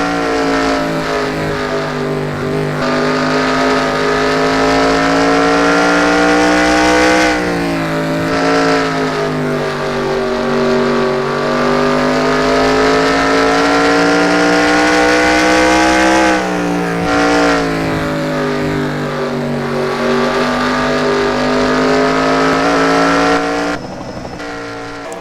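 Onboard engine of a race truck lapping at I-70 in a Truck Series race, a loud sustained high-revving drone with brief dips where the truck lifts through the turns.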